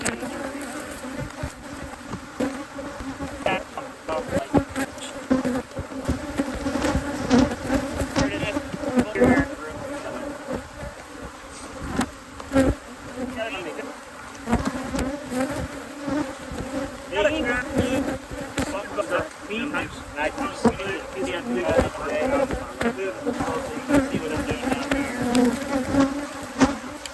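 Honey bees buzz around an open hive during a hive split and requeening. A dense, continuous hum lasts the whole time, with individual bees zipping close past.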